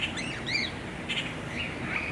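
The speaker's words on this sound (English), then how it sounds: "Well, I should think that's all they have in here is cockatiels." Cockatiels in a zoo aviary give a few bright, rising and falling whistled calls over a steady low background rumble, the chirps close and moderately loud.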